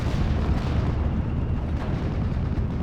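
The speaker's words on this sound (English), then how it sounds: "and boom, mortar straight in the face" A mortar shell fired from a half-track explodes on scouts in the World War II strategy game Steel Division: Normandy 44, set at Pointe du Hoc. A deep, rumbling blast lingers at a fairly steady loudness for a few seconds.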